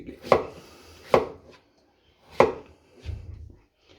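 Potatoes being chopped with a knife on a board, three distinct close knocks spaced irregularly, followed by a softer scraping sound, with no voices.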